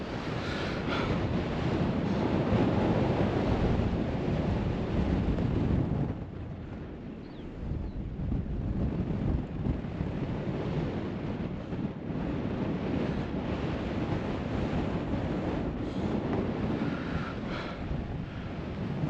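Strong, steady wind buffets the microphone on an exposed mountain summit in the Eastern Arans of Wales, a continuous broadband roar that eases briefly midway before gusting back up, with no voices.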